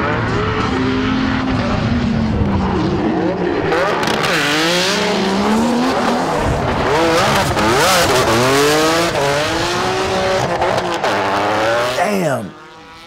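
A Nissan S15 drift car at a JDM drift day screams past, the engine revving hard and rising and falling as tires squeal continuously, loud and close before cutting off abruptly at the end.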